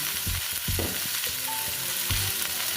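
Eggplant and other vegetables with green chilies sizzle in a hot pan, a steady crackling fry with a few low knocks and scrapes of stirring, close by and moderately quiet.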